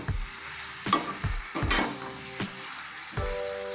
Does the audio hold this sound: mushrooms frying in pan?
yes